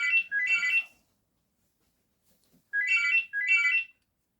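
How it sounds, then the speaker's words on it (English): A phone rings with an electronic ringtone: two quick warbling trills, a pause of silence, then two more trills, loud and close in a quiet room. "The phone rang."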